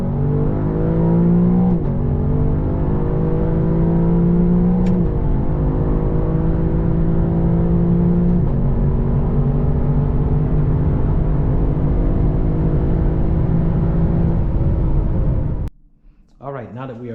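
A Lexus LC 500 fitted with a Blitz carbon intake and cone filters pulls hard from a lower gear, its engine note climbing steadily in rising harmonic steps for about fifteen seconds before cutting off abruptly.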